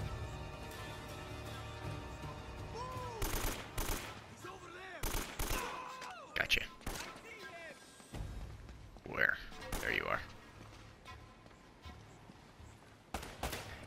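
Bursts of automatic AK rifle fire in Uncharted: Drake's Fortune, several sharp rattling volleys spaced apart among game sounds, with a person talking at points.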